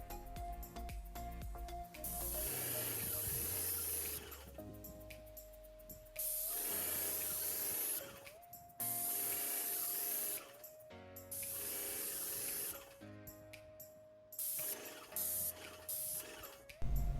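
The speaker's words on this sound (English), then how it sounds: "take this Graco paint sprayer and see how well it does" A Graco Magnum X7 airless paint sprayer hisses in several long bursts, its motor whining underneath, with brief pauses and mechanical clicks between sprays.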